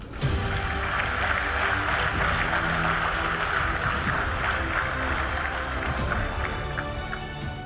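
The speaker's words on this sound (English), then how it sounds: "aside receiving the loudest applause so far today" Loud, continuous applause from a large gathering in Abuja greets Wike's naming as Minister of the Federal Capital Territory, a dense roar of clapping that holds steady throughout.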